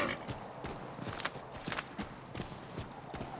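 Horse hooves clop at a steady walking rhythm in the video game Assassin's Creed III, fairly faint and even, over a soft wash of background ambience with no talking.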